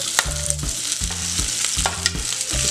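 Chopped potatoes frying with cumin and ginger for a fasting meal, heard as a continuous sizzle broken by repeated low scraping stirs in an irregular rhythm, close up.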